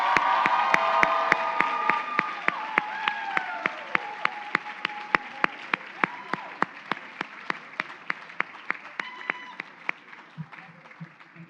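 A crowd at a graduation celebration claps and cheers for the class of 2023, with sharp individual claps standing out over the general applause and voices shouting and whooping. The sound is fairly distant and fades gradually.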